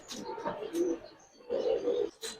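Giribaz pigeons at a pigeon farm give soft, close coos in two short phrases separated by a brief pause, fairly quiet and without talk.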